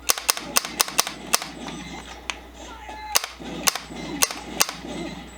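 Gunshots ring out in a MAME arcade light gun shooter game, sharp cracks firing in a quick burst, then scattered single shots over a low background hum.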